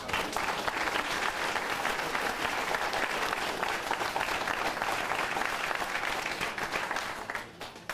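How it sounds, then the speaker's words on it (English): Sustained applause from an audience at a school district board meeting honoring an activities association recipient, a dense steady wash of many hands clapping that fades slightly near the end. "I would like you to give her a hand"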